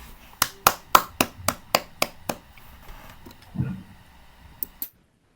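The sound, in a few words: audience applause for webinar presenters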